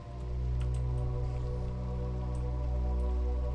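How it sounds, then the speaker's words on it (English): Steady rain falling in a video game, a constant soft patter of drops with occasional brighter drips over a low continuous hum, no one speaking. "Are you liking the rain?"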